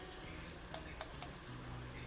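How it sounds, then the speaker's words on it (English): Onions and garlic sauté in a pan with a steady soft sizzle, a few brief clicks and scrapes rising above the hiss; no voices. "now that the onions have become opaque and it's starting to saute down just a little bit"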